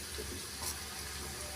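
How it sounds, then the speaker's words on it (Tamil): Water from a rinsed mixer jar is poured into a pan of cauliflower green gravy, giving a faint, steady trickling hiss that lasts the whole moment with no talk over it. "கிரேவிக்கு தேவையான அளவு தண்ணி சேர்த்துக்கலாம்."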